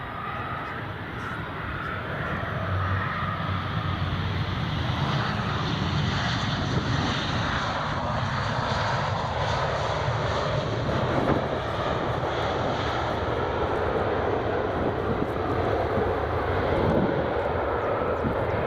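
An EasyJet airliner lands at Edinburgh Airport, its engine roar broad and sustained, loud and fairly close for the whole stretch, with no talking.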